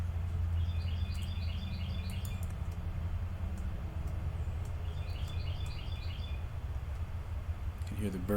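Birds chirp outside in short repeated bursts, faint and distant, heard twice over a steady low hum.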